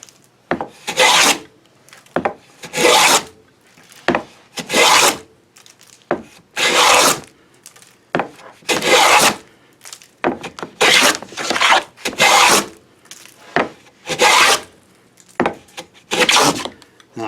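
A replica 18th-century hand plane slices across a wood panel in repeated strokes, each a bright rasping swish about a second long, separated by short pauses, close and loud, about a dozen passes.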